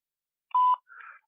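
A voicemail playback starting tone is heard alone: a short, clean electronic beep held for a moment, then a softer, buzzier tone just after, both brief and close.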